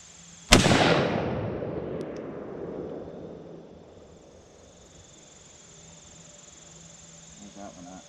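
A single gunshot from a gun clamped in a vise at a shooting range cracks sharply, then a long echo fades away outdoors with insects chirping faintly afterward.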